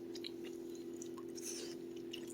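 Chewing on a bite of tomato bacon pie with onions and ranch, soft moist mastication sounds repeating close up over a steady low hum, no talking.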